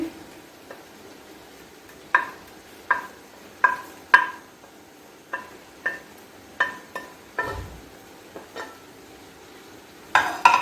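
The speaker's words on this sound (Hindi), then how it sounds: "हम लोग इसमें टमाटर और प्याज ऐड कर देंगे।" A spatula clinks and scrapes against a pan as tomatoes and onions are stirred over very low heat for a spicy chicken vegetable spaghetti, with about a dozen crisp, evenly spaced taps, fairly close and alone.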